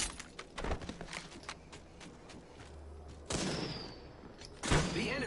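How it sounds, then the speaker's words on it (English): Enemy gunfire in a shooter video game, a rapid burst of close shots at first, then a quieter gap and two heavy impacts later over a continuous game background. No voices are heard. "The enemies are shooting at me."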